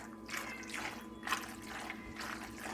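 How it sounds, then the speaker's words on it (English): Big elbow noodles being stirred into melted cheese sauce give off wet, sticky squelches and slurping smacks in uneven bursts, close up, with no talking. "Mix it, and if your mac and cheese don't sound like this"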